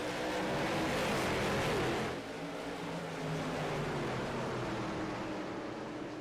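Race cars in the iRacing sim surge through a restart at Nashville, a dense, loud roar of several engines throttling up together, steady and close throughout with a slight dip after the first two seconds.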